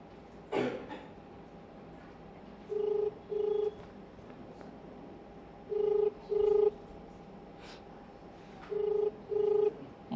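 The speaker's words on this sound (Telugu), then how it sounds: "ఆయనకు ఒకసారి ఫోన్ చేద్దాం." Landline phone call placed from a Telugu news studio: a clack of dialing, then a ringback tone in three paired double rings spaced about three seconds apart, clear and moderately loud.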